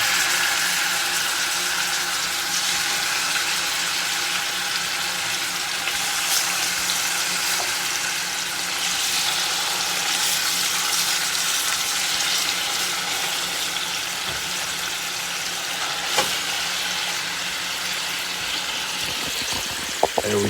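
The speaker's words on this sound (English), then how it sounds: "I love that sizzle." Salted and peppered chicken thighs sizzle as they brown in a pot for posole, a steady, dense crackling hiss that holds evenly for about twenty seconds, close and fairly loud, with a couple of faint clinks near the end.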